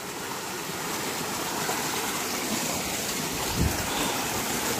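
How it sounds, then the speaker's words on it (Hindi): Water flowing down from a mountain after rain, a steady broadband rush like a stream or small waterfall, close and continuous with no voices. "अभी बहुत ज़्यादा पानी आ रहा है, देखो अभी पानी बहता रहता है पहाड़ में से।"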